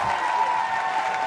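Audience applause at a live Koffi Olomidé show, a dense, steady wash of clapping that fills the whole moment at close, loud level without any break.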